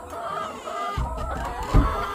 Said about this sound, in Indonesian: Nah, rekam itu ayam. Tuh, ayam.